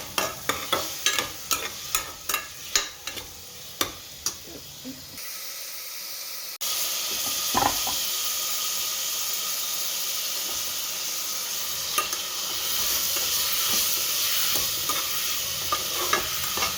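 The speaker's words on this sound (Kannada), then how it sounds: "ನೆಕ್ಸ್ಟು ಕಟ್ ಮಾಡಿರುವಂತಹ 1-2 ಈರುಳ್ಳಿ ಹಾಕ್ಕೊಂಡು ನೀಟಾಗಿ ಅದು ಫ್ರೈ ಮಾಡ್ಕೊಳ್ಳೋಣ" Onions and masala fry in a pan for a tomato bath while a spoon stirs, first with a run of sharp rhythmic scraping taps and then a steady close sizzle and hiss.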